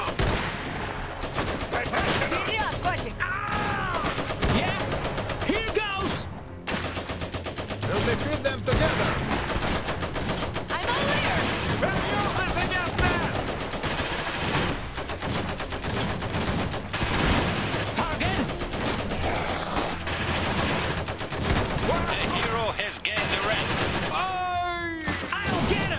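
Dense gunfire and machine-gun bursts from a battle in the video game Iron Harvest 1920+, loud and continuous throughout, with brief explosive hits and game voices calling out over the shooting.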